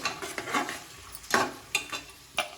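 Green chillies sauté in a pan while onions cook for mutton biryani, with a soft steady sizzle broken by a few sharp scraping stirs, close up and with no voices.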